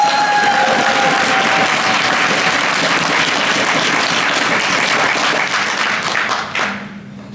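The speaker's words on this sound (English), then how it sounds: "Clap like you want to hear one more." A concert crowd at a Swift developer conference gives a band sustained loud applause, a dense wall of clapping with some cheering that holds steady, then drops off abruptly near the end.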